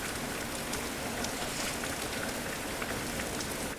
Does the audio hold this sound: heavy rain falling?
yes